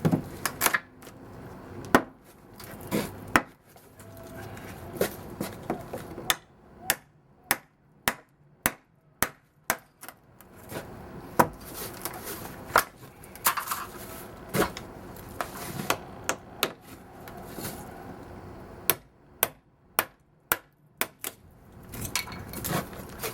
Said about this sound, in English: You need a tear-up chisel. Something that you can use to tear up stuff with.